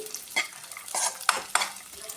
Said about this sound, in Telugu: ఇలా మొత్తం మంచిగా ఫ్రై చేసేసుకోవాలండి